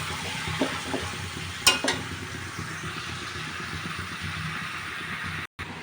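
Shol fish cooked down with plenty of spices sizzles steadily in oil, with a few sharper clatters of stirring near the start and a brief dropout near the end; no one speaks.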